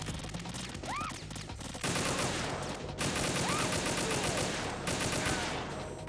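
Gunfire in Metal Gear Solid 2 rings out as a dense run of repeated shots, loud and steady through most of the stretch with a short lull near the start, set against busy game effects.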